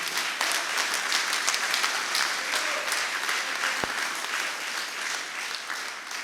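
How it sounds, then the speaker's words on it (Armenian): Steady, dense applause from a large crowd at a Mayr Hayastan political gathering in Vagharshapat, Armenia, loud and continuous for the whole stretch, with brief fluctuations but no pause. "առաջարկում եմ բարձր ծափահարություններով վաղաշաբաթցիներին"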